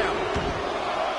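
A video game wrestling arena crowd in WWE 2K20 roars as a steady wash of distant cheering, with a soft thud partway through and faint commentary underneath.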